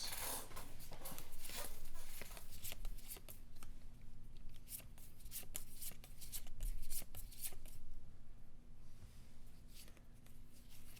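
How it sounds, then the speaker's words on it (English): Playing cards for the Battle Spirits Saga card game are shuffled by hand up close in a quiet room, a run of quick papery riffles and flicks that keep going without a pause. "The 10 card shuffle."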